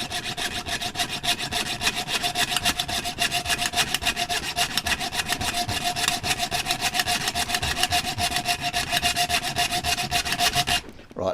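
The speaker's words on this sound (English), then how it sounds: "You might really want a bigger hacksaw than what I've got." A small hacksaw cuts with quick, even back-and-forth strokes, a continuous rasping saw rhythm heard close up for about eleven seconds before stopping.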